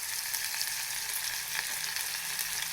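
Curry leaves crackling and sizzling in hot oil, a continuous hiss with faint pops and stirring, heard alone without voices.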